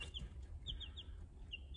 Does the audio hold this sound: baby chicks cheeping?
yes